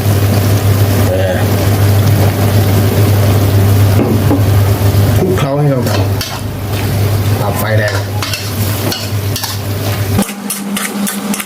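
Spicy wild boar being stir-fried with oyster sauce, a loud continuous sizzle with scraping and tossing of the wok under a steady hum, with brief voice-like sounds mixed in.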